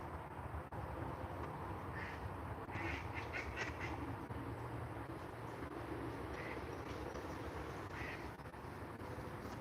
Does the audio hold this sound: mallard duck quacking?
yes